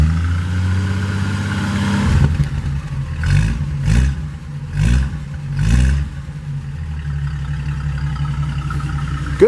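A 1948 Pontiac Torpedo engine idles with a low, steady burble, then revs up in four quick throttle blips before settling back to idle, loud and close, with no talk.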